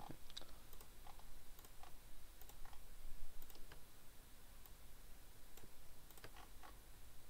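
Scattered computer keyboard key presses, such as Control C, during After Effects editing, a few sharp clicks spaced irregularly over a steady low hum, with no voices.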